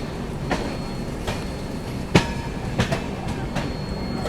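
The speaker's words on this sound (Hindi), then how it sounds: "गाड़ी अपनी पटना जंक्शन पहुंच रही है।" Onboard the 12392 Delhi–Rajgir Shramjeevi Express passenger train as it runs on the rails toward Patna Junction: a steady rumble with periodic wheel clicks and joint thumps, close and continuous, with no talking.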